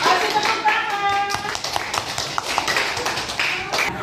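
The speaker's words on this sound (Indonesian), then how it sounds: "Kasih tepuk tangan." A small group of students claps in a classroom in a short, uneven burst, with talking and voices mixed in under the clapping.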